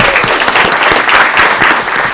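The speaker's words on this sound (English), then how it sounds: "let's give her a round of applause before I read that." Steady applause fills a city committee meeting in Aurora, a dense wash of many hands clapping close by for about two seconds with no talk over it.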